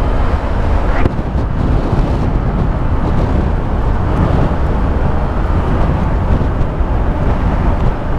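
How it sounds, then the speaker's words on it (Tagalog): Strong typhoon wind roars and buffets the microphone while riding a motorcycle through Mapanuepe, Zambales, a loud continuous rush with low engine rumble underneath and one brief knock. "Lakas lang ng hangin dito."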